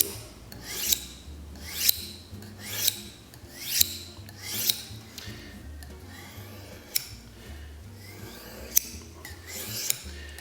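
A kitchen knife blade is drawn along a sharpener to restore a straight, working edge. About ten close, rhythmic rasping strokes repeat at an even pace, with no voices.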